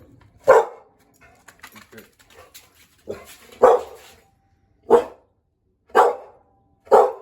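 A single dog gives five loud, sharp barks spaced about a second apart, near the listener, with some speech heard between the barks.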